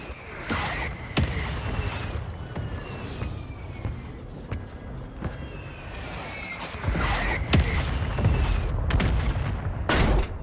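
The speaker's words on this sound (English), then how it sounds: "Mortar strike on the way." Repeated heavy booms and crackling blasts from a mortar strike in the game Warzone on Rebirth Island, a rapid cluster of impacts early on and another burst near the end over a constant rumbling background.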